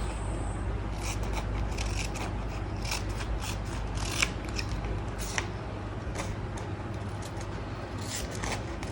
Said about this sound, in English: Now we'll just cut off this end bit